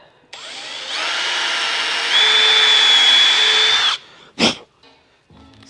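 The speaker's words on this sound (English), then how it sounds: "And then the one going into the wood, I'm gonna pre-drill it." A power drill pre-drills a hole into wood while fitting roof bows on a 1932 Ford build, one sustained whirring run of about three and a half seconds that rises in pitch midway, followed by a short sharp knock.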